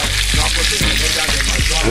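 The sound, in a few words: haddock frying, sizzling in pan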